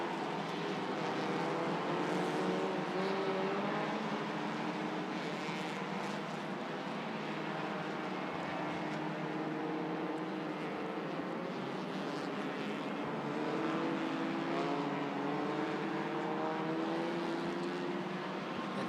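A steady, continuous engine drone from race cars running on the Sepang circuit during the 2023 Sepang 1000KM endurance race, with slowly rising and falling pitch and no clear pauses.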